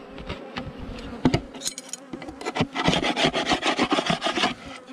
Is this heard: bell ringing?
no